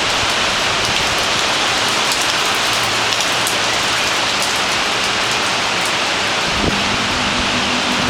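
Steady heavy rain pouring down in Sri Hartamas, a dense even hiss close around with no breaks, a brief low rumble near the end.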